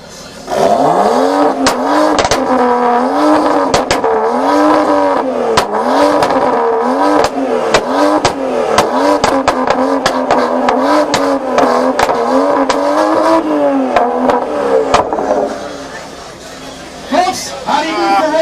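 A 2019 Nissan 370Z tuned with a 2-step launch control revs hard and extremely loud at close range, with sustained rising and falling engine notes and sharp popping bangs, and voices heard in the background.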